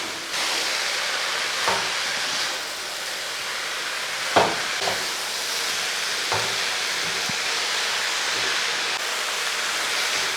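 Spinach for a Kerala thoran is stirred with ground paste in a hot, steaming pan, giving a steady sizzling hiss broken by a few sharp scrapes and knocks. No one speaks.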